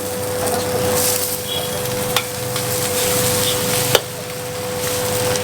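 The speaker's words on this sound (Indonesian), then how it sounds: "baksonya langsung kita masukin, kita tumis biar wangi" Meatballs and vegetables stir-fried in a pan give a steady close sizzle, with a couple of sharp utensil knocks against the pan over a continuous frying hiss.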